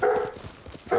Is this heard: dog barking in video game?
yes